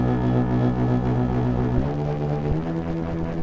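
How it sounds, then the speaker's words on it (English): Wide unison dubstep bass synth holding a thick, buzzing low note with dense layered overtones, shifting pitch twice near the end, loud and steady with no talking. "we're trying to make a wide bass that takes up a lot of space in the bottom end"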